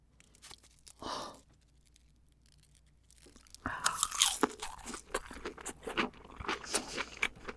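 Crunchy chewing of a lettuce-wrapped bite of home-caught amberjack (hamachi) sashimi, close and intimate, a brief crunch early then a dense run of wet bites and chews growing louder toward the end.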